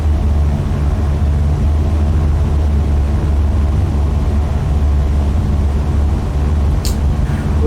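A steady, droning airplane engine at full throttle during a takeoff roll in Microsoft Flight Simulator 2020, a constant low rumble holding level throughout with a brief faint click near the end.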